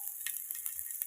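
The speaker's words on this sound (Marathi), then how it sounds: "तर बघा एक कांद्याला छानपैकी असं भाजू द्यायचं आहे" Onion frying in a pan for an omelette, a close, quiet sizzle with soft crackles and light ticks recurring through the short stretch.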